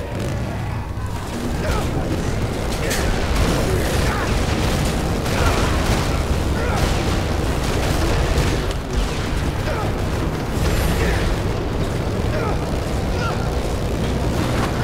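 Continuous heavy rumbling booms and blasts from explosions in the video game Dead Rising 3, loud and dense, with a voice briefly audible under the chaotic noise.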